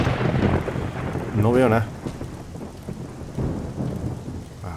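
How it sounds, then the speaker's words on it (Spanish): Rain falls steadily in the video game 7 Days to Die, with rumbling thunder, while someone speaks briefly over it. "Además, lloviendo ya ni te cuento."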